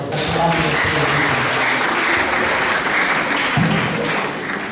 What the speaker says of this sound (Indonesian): Tepuk tangan untuk saya.